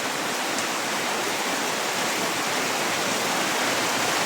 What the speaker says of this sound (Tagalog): Bumubuhos na naman yung ulan idol.